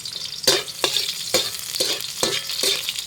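Onions fry in heated cooking oil for a monggo dish, a steady crackling sizzle punctuated by regular scraping stirs of a spatula, close and clear with no voices.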